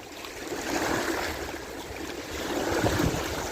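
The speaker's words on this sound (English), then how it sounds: "It's not real super windy, but it's just windy enough to create some waves" Small wind-driven waves wash continuously against a dam during midday fishing, a constant near splashing hiss that swells slightly, mixed with light wind and no talking.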